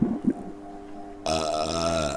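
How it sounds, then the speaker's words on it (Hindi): A person lets out a loud, drawn-out burp that starts suddenly after a brief rustle and rumbles on for about a second, close and alone. "ये बंदे पास में बैठे बैठे डकार मारते हैं"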